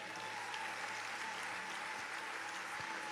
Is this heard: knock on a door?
no